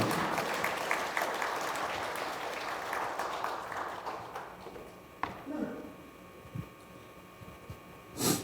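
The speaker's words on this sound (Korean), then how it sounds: "우리 경북의 발전을 위해 열정적으로 헌신하시는 이철우 도지사님께 다시 한번 여러분 큰 박수로 보내주십시오." Attendees at a construction association's general meeting applaud the provincial governor in a broad wash of clapping that gradually thins out and fades, leaving scattered claps and small room noises.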